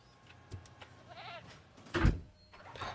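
Goat released from a feeder in a video game gives a short, wavering bleat, followed by a louder, brief thud-like burst and soft rustles, all fairly quiet and close.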